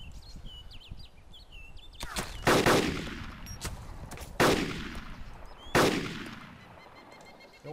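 Gunfire in the video game Arma 2 DayZ Epoch: three loud, sharp shots spaced a second or two apart, each with a long echoing tail over faint birdsong in an outdoor setting.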